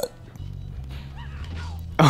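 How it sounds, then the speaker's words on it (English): A single burp erupts loudly at the end, after a stretch of low murmuring from a voice. "Can I burp?"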